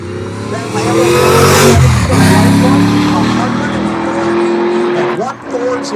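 A Lamborghini in a drag race at a Utah speed festival roars hard and close, engine note climbing through gear changes before fading slightly, with talk mixed in over the noise.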